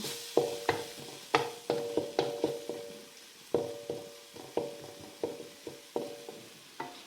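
Chopped shallots and garlic stir-frying in a pan: a spatula repeatedly strikes and scrapes the metal in a quick, irregular rhythm over a faint sizzle, close and fairly quiet.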